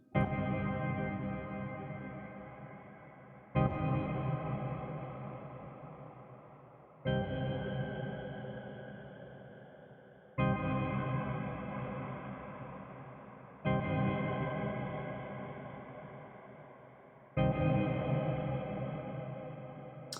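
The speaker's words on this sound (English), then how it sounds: "if I dial in the chorus right now, every iteration it gets more and more chorus" A sustained synthesized tone repeats in six long swells, each starting bright and decaying slowly into a shimmering, warbling reverb tail.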